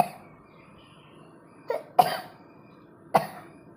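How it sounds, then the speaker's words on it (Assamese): A person with a cough, indoors in a quiet room at home, gives three short, close coughs: one light, then a stronger one, then a final one after a pause. "কাহ হৈ আছে"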